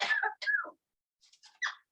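A small bird gives a couple of short raspy coughs, then a few soft faint chirpy sounds after a pause.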